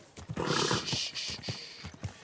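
Horse hooves clip-clopping with a brief whinny in the Kingdom Come Deliverance II video game, a quick run of close, rhythmic hoofbeats over a broad snorting, breathy noise.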